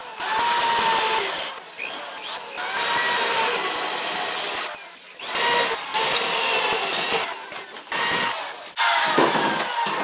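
A power tool cuts out OEM car seat rails from a vehicle floor in loud, sustained bursts of grinding and whirring, broken by short pauses and restarts.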